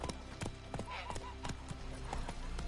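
Roach the horse from The Witcher 3 clip-clops along at a steady walking rhythm of close, distinct hoof strikes, with a brief whinny partway through.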